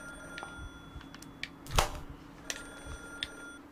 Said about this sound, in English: Is that the phone ringing?